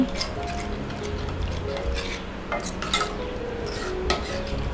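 Spoon stirring cashew powder into a condensed-milk kulfi mixture in a bowl, with soft repeated scraping and light clinks at close range, steady and unhurried, with no talk over it.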